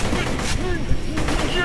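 Sniper rifle fire in Borderlands: The Pre-Sequel during the RedBelly boss battle, loud and close over a dense, continuous wash of game combat noise, with sharp bursts near the start and again toward the end.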